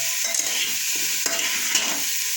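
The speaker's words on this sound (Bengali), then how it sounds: "মাটনটাকে আমাদের আনাজের সাথে ভালো করে কষে নিতে হবে।" Mutton cooks with vegetables in a hot pan, giving a loud, continuous hiss of frying with soft scraping stirs now and then, and no voices.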